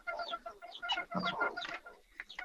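Chickens cluck busily at a poultry coop on a home farm, a close, continuous run of overlapping clucks and short calls with no talking.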